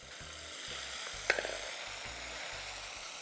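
A melon seed mixture frying in a pot, a steady close sizzle with a single sharp scrape and clatter of a stirring utensil partway through.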